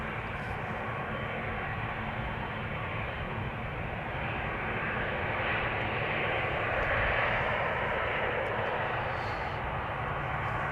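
EasyJet Airbus A319 taxiing at Amsterdam Schiphol Airport, a steady, loud, broadband jet engine roar and whine that holds evenly throughout, swelling slightly toward the middle.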